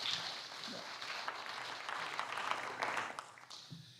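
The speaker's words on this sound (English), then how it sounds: "So if you could please applaud him in the other finals, that'd be great." Audience applause at a sports player of the year awards ceremony, a steady moderate patter of clapping from a crowd indoors, fading out toward the end, with no talk.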